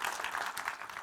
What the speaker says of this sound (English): let's start as we mean to go on with a massive round of applause